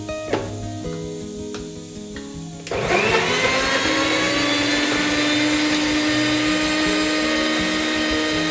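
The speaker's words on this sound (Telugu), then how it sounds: "ఇంకా ఇది మిక్సీ పట్టేయడమే అనమాట ఇవన్నీ వేసిన తర్వాత." A mixer grinder switches on after a few quiet seconds and runs at full speed, blending dry fruits with honey for laddus in a loud, steady, high-pitched whir.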